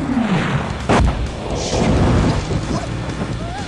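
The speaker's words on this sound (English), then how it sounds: "Explosive tank action for up to four players." Booming tank explosions from a BattleTanx Nintendo 64 commercial, with a heavy blast near the one-second mark and dense rumbling bursts throughout, loud and close, mixed with music and effects.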